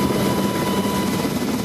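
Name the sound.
helicopter in emergency air evacuation drill at JSA Panmunjom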